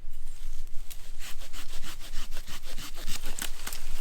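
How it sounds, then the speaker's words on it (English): A simple folding handsaw cuts through a karamu shrub stem outdoors, making a fast, rhythmic rasping of push and pull strokes, loud and close, with no talking. "Use a simple folding handsaw."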